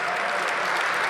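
Audience applause at a Washington D.C. announcement event with Monumental Sports & Entertainment, a dense, steady wash of many hands clapping at moderate volume for about a second, with no voices over it.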